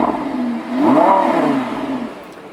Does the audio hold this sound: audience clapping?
no